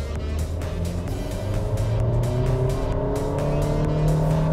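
Honda City sedan with a CVT gearbox accelerating at full throttle in Sport mode, its engine droning steadily upward in pitch without gear shifts, loud and close from inside the car.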